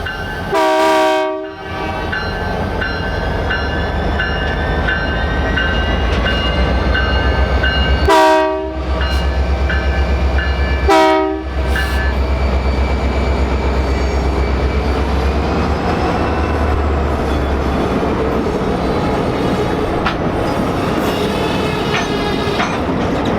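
BNSF GP39-3 diesel locomotive with a turbocharged 645 engine rumbling past loudly, its horn sounding in three blasts over the continuous engine drone and rolling rail noise.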